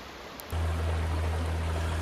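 Wetstone Brook, a short hill-fed stream in Vermont, rushes in a steady broadband wash that starts abruptly and continues, heard from the middle of the water with a low rumble underneath.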